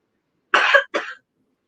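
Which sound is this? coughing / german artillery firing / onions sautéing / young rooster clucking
coughing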